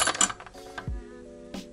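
A large spare tire bolt in a Mazda MX5 Miata trunk is turned out by hand, giving short metallic clicks and rattles with a clunk partway through, close and fairly quiet.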